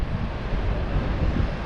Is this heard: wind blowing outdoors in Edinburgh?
yes